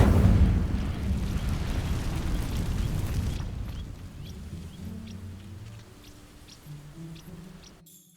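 An Incendio fire spell sets dry vines ablaze in Hogwarts Legacy, a loud whooshing roar of flame for about three seconds that dies into quieter crackling and low ambient tones.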